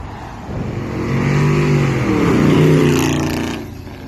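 A 1995 Chevrolet Caprice with a swapped 5.3 LS V8 accelerates on the freeway, its exhaust note swelling into a loud, close, rising roar that peaks and then eases off.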